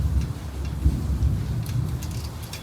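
A thunderstorm rumbles outside a workshop, heard as low, continuous rumbling with a faint patter of rain, fairly quiet and distant, with no talking.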